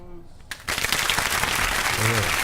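Studio audience applause on a radio show breaks out suddenly after a brief quiet moment and continues steadily, with a voice speaking over the clapping toward the end.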